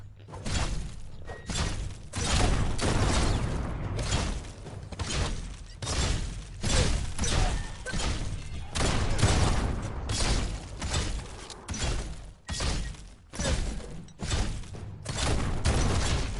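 Biomutant combat gunfire: repeated sharp bursts and thudding impacts in pulsing waves, fairly loud and steady throughout, with no talk over it.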